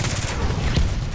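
Rapid gunfire from a sniper-themed shooter video game, dense bursts of shots crackling one after another across the whole moment, loud and close with no speech over it.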